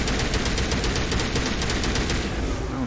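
Sustained rapid gunfire aimed at the player in Mass Effect Legendary Edition, a loud, dense run of automatic shots rattling without pause for several seconds, with no voices over it.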